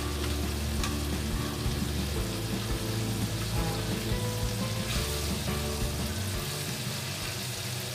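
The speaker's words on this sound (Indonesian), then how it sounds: "kita goreng sampai kuning keemasan. Jika bagian bawahnya sudah keemasan" Flour-battered mushrooms deep-frying in hot oil, a dense, loud, continuous bubbling sizzle that stays even throughout, with no voices.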